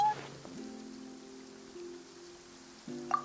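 Steady rain falls in the video game Genshin Impact, a soft continuous patter under a faint, sustained musical drone, with no talking.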